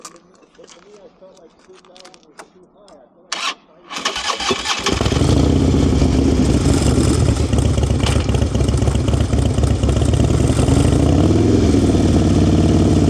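A motorcycle engine during a group riding lesson starts up after a few seconds of quiet talk, then holds a loud, steady idle and low revs close to the listener, with voices speaking over it.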